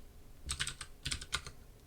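Keys tapped on a computer keyboard during a lecture calculator demo, three short clusters of crisp clicks separated by brief pauses, faint and close, with no talking.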